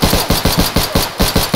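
Rapid automatic gunfire in a video game, a steady stream of sharp, loud shots repeating about every 0.15 seconds with no pauses.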